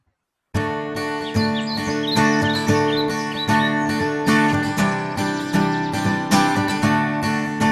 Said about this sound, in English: the birds sound like a symphony